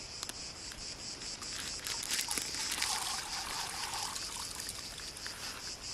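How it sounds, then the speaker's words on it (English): Water poured into a bowl outdoors in the mountains while cooking chickpeas with sausages, a steady trickling pour lasting several seconds over a constant background of insects or crickets. "I will put the water inside the bowl."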